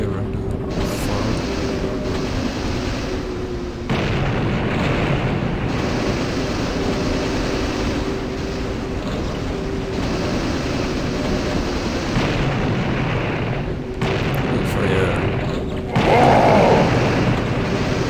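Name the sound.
cannon firing explosions in video game Blood: Fresh Supply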